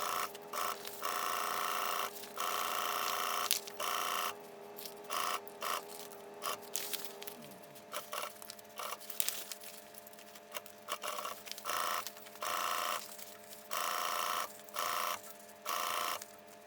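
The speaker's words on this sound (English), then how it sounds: "Sewing at a 3/8 inch seam allowance around the edge." A Juki 1541S sewing machine stitches a 3/8 inch seam around the edge of a bag, running in repeated bursts of rapid mechanical chatter separated by brief pauses, close and fairly quiet with no talking.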